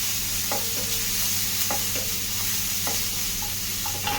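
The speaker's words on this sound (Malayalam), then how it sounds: "അപ്പം അതിലേക്ക് ചതച്ച് വെച്ച ഇഞ്ചി വെളുത്തുള്ളി ചേർത്ത് കൊടുക്കാം കേട്ടോ" Crushed ginger and garlic go into hot coconut oil and get stirred, a continuous close sizzle with repeated sharp scrapes and taps of a spoon against the pan.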